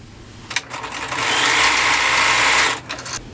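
A sewing machine runs a zigzag stitch over overlapped elastic on t-shirt fabric for kids' leggings, a steady close whirring burst of about a second and a half framed by a few clicks and handling noises.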